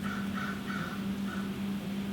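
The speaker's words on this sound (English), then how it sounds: "there goes the crows" Crows caw in a few short repeated bursts at moderate distance, set over a steady low hum and background noise in an indoor craft workspace.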